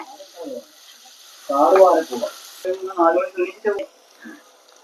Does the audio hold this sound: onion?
yes